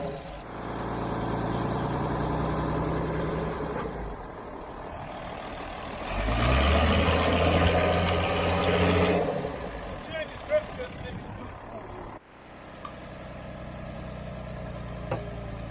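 A motor grader engine with stuck brakes runs and rumbles at a low idle, rising to a louder, heavier stretch mid-way before dropping back, with a few sharp knocks and voices talking over it.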